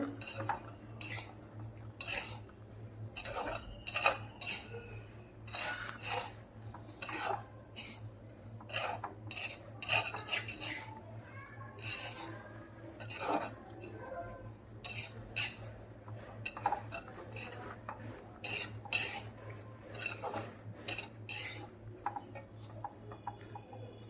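A utensil scrapes and taps against a pan while sesame seeds are stirred over low heat, a continuous busy clatter of quick metallic scrapes under a low steady hum, with no talking.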